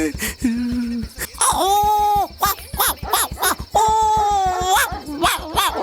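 Dogs bark at night, with loud, close, drawn-out howling whines rising and falling in two long cries amid rapid rhythmic pulses.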